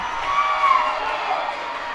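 Baseball stadium crowd at a Thursday night Hartford Yard Goats game against the Reading Fightin Phils cheers and shouts in a steady, dense roar throughout.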